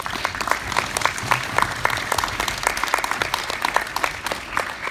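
Audience at a TEDx panel discussion on esports and gender applauds the panel, a dense steady patter of many hands clapping throughout, fairly loud and close.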